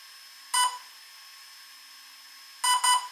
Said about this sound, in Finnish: nyt kuuluu kaksi piippausta